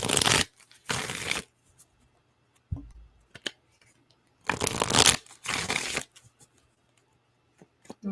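Tarot cards are shuffled in several bursts of dense riffling and flapping, close and crisp, separated by quiet gaps with a soft tap or two in between.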